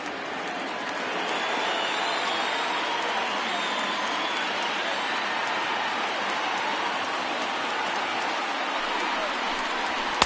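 Broad roaring cheer from a stadium crowd of over 39,000 in a baseball video game, sustained and washing like rain, with a commentator's voice underneath.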